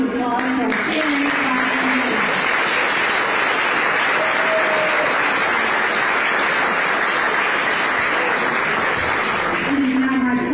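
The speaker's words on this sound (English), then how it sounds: "Please give a big round of applause for our family." A large audience at a graduation ceremony bursts into loud, sustained applause, dense continuous clapping that fills the room; a voice on a public address system speaks briefly before the clapping swells and again as it fades.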